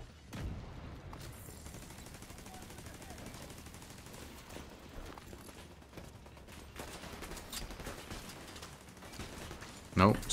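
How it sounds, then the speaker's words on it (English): Bursts of enemy gunfire in The Division 2 sound across the clip in rapid automatic strings and scattered shots, mid-distance and fairly quiet, ending in a louder burst. "Oh, they're shooting at me."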